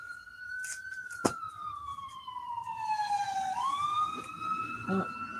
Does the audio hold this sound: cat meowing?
no